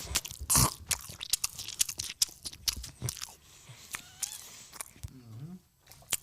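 Someone bites and chews a burrito dipped in consommé, wet crunchy bites and smacking chews in quick irregular bursts close to the microphone, with brief vocal sounds between mouthfuls.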